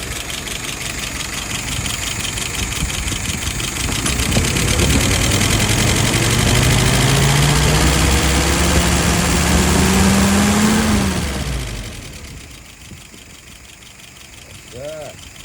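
An engine on someone's WO 636S is pulled through and run, giving a loud, rough running drone whose pitch climbs steadily before it cuts out, after which quieter sounds and a brief voice follow.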